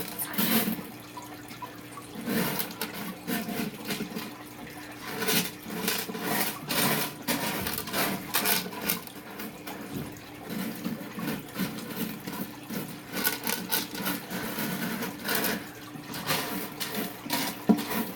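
Aquarium gravel pours into an empty betta fish tank with a steady, dense rattle of small stones that runs for the full stretch, close and fairly loud, with no voices.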